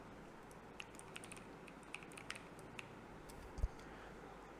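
Keys on a computer keyboard are pressed in a quiet, uneven series of light clicks, with one louder tap near the end and a faint background hiss.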